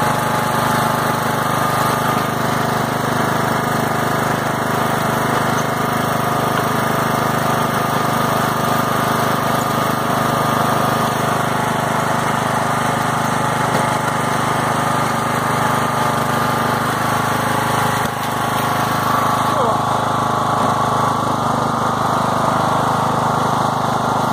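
A 42-inch yard tractor fitted with a snow plow and snow chains runs steadily while warming up, its engine droning loud and close with an even, unbroken mechanical hum throughout.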